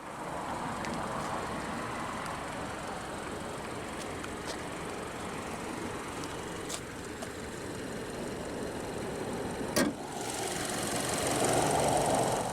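A 2022 Subaru Legacy Premium's naturally aspirated 2.5-liter boxer flat-four idles steadily at a moderate distance, a low even hum with a few brief clicks and a rising whoosh near the end.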